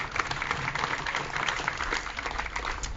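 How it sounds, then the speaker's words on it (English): Applause from an audience at a ribbon-cutting ceremony for a residence: dense, steady clapping that stays fairly even for about three seconds, with no one speaking over it. "So just big round of applause for all that they do to help make this happen."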